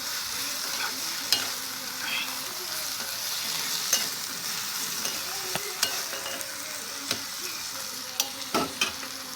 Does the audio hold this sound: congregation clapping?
no